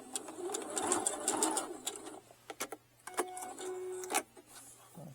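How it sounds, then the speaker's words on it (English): A sewing machine stitches close to the bottom of a fabric eyeglass case pouch, quiet rapid mechanical ticking in short bursts with pauses, under a soft steady hum. "So just to hold it together, I am going to do a little stitching close to the bottom."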